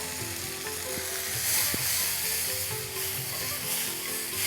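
Mushrooms with kasuri methi and garam masala sizzle and fry steadily in a kadai pan as they are tossed, with a constant hiss and occasional stirring scrapes and no talking.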